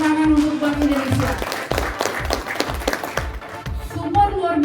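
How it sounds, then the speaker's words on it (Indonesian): Audience clapping at an Indonesian education event with Bank Indonesia: a rhythmic, fairly sparse applause with regular claps over music-like background tones, loud and close, ending in a sustained tone. "Tepuk tangan untuk Bank Indonesia."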